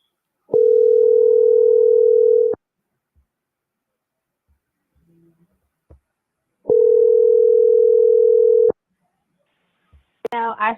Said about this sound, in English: Now, I should not be answering this phone call.